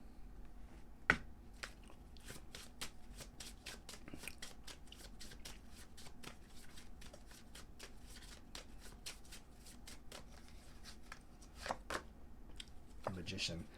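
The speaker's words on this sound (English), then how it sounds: "Let's pull an advice card here for you as well." Tarot cards shuffled for an advice-card pull: a long run of quick, crisp riffling taps and flicks, close and fairly soft, with a few sharper snaps near the start and end, no talking over it.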